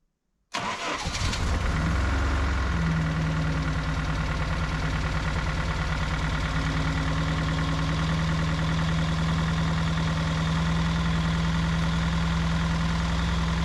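A GAZ Gazelle van's petrol engine starts and settles into a steady, slightly rough idle on old fuel, loud and close, running continuously with no talk.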